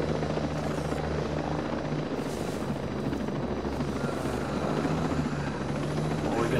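Helicopter circling low overhead in the video game Ghost Recon Breakpoint, a steady rotor drone and engine whine filling the whole stretch with no talk.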